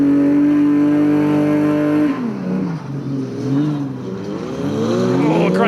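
A Suzuki 4x4 works through a competition course marked with pegs, its engine holding a steady drone, then revving and dropping repeatedly as it manoeuvres, close and loud with no talk.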